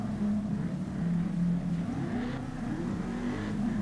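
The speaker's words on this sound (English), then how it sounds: "Rianne Daly getting the E92 spun up as he makes his way for the initiation" BMW E92 drift car at a street-tour drift competition round at Autopolis, engine revving hard and steadily at the start of a run, a continuous droning roar with wavering pitch, moderately distant, no voices.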